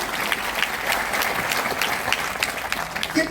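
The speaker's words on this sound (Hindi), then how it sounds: "मैं चाहूंगा इनके लिए भी एक बार जोरदार तालियां।" An audience at a leadership programme event applauds, with steady, moderately loud clapping from many hands that continues evenly for a few seconds.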